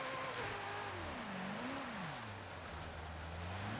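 Ferrari J50 engine in Forza Horizon 5 revving steadily, pitch rising, dipping and climbing again in waves, a close continuous sports-car engine note with no talk.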